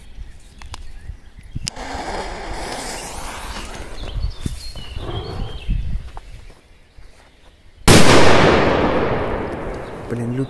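Crazy Man firecrackers going off in a forest: a run of crackling bursts and pops, then one loud sharp blast near the end that rings out and decays, with someone talking over parts of it.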